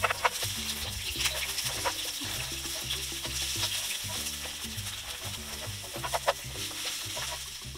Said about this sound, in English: So we're gonna put the vegetable oil. Put in onions.